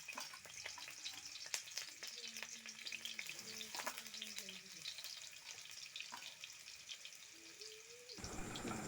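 Garlic hits hot oil in a wok and sizzles steadily, with scattered clinks and stirring scrapes and faint background noise, until the sizzle cuts off abruptly near the end.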